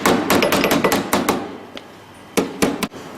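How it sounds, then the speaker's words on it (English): Metal hammer tapping out a dent in a car body panel, a quick run of sharp close knocks, a pause, then a few more spaced taps. "You've got this hammer here, which is good."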